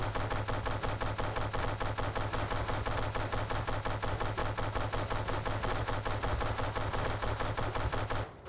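Rapid, continuous automatic gunfire from the naval combat game From the Depths rattles steadily for about eight seconds, loud and evenly paced, then cuts off abruptly with no talk.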